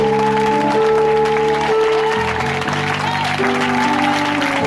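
A church congregation at a French-language Sunday service applauds steadily throughout, with sustained music tones running underneath and no voices speaking over it.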